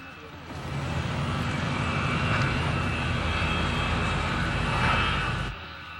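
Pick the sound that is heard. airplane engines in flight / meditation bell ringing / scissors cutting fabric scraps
airplane engines in flight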